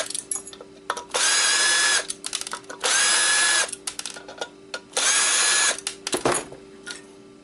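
A screwdriver, likely powered, runs in three sustained bursts while unscrewing a circuit board from an old Xbox hard drive, with whirring ratchet-like spins separated by short pauses and small handling clicks.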